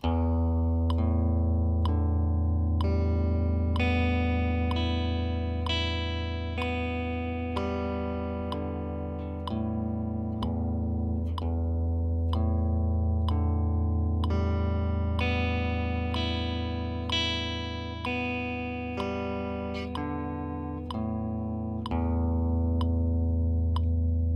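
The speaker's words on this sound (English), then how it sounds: "we're going to teach you how to do an upstroke" An effects-laden electric guitar picks a steady run of single-note upstrokes in an even rhythm, with crisp regular metronome clicks keeping time throughout.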